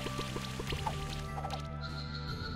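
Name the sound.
Bubble Burst water attack in video game Monster Sanctuary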